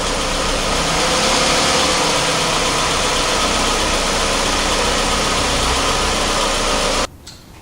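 A vehicle engine running steadily on a diagnostics training setup with a fault-insertion box, giving a loud, even drone that cuts off abruptly near the end, with no talking.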